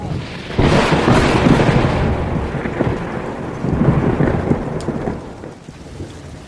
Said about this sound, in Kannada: ನೋಡು ನೋಡುತ್ತಲೇ ಗಾಳಿ ಸಹಿತ ಮಳೆ ಅಬ್ಬರಿಸುತ್ತದೆ